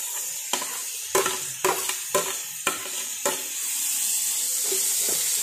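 Curry leaves and chopped shallots fry in a pan with a soft sizzling hiss, broken by several sharp scraping stirs at irregular intervals before the sizzle settles into a steady, louder crackle.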